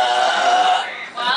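A single loud, drawn-out belch, close up, at a belching contest. It lasts just over a second with a short break near the end.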